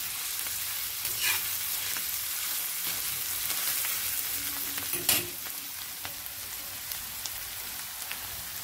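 Onions fry in an iron pan with a continuous dense sizzle and crackle, steady throughout, with a few brief clinks and scrapes of stirring.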